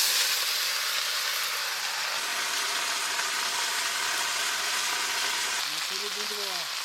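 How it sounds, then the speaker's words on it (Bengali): Greens hit garlic and green chili frying in mustard oil, giving a steady loud sizzle and hiss that runs throughout, with a brief stir and a short tonal squeak near the end. "কাঁচা রসুন, কাঁচা লঙ্কা, ভাজা হয়ে গেছে, এবারে শাক দিয়ে দেবো"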